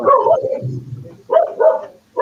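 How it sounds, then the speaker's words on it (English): A dog barks three times at close range, the loud yaps spaced irregularly with a low rumble between them. "Maybe it's just a motorcycle and the dog barking."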